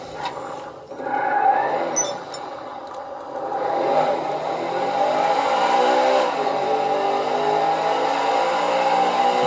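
Engine of the Truffade Thrax, a 2.3 million dollar hypercar in a video game, building steadily as it accelerates, a continuous rising drone that stays loud and close throughout.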